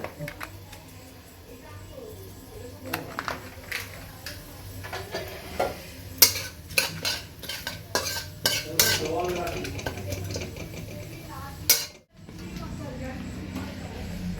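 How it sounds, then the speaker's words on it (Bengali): A spatula scrapes and clinks against a pan while Bihari bhuna chicken is stirred, a steady series of metallic taps and scrapes with faint sizzling underneath and voices talking over it. "এই যে রাঁধুনি ব্রাহ্মণ রান্না করছে। দেখো খুন্তি ধরা কায়দা, দেখো।"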